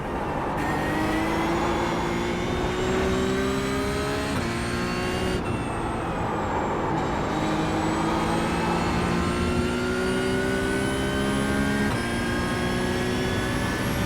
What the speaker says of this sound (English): but yeah, we're off again.